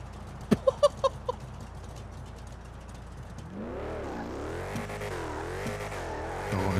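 A car exhaust burbles close by with a steady, low throbbing rumble that rises and falls, preceded by a short series of sharp clucking or popping sounds.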